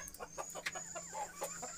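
Peruvian chickens on a poultry farm give faint, scattered clucks in a quick, uneven series, heard at a distance.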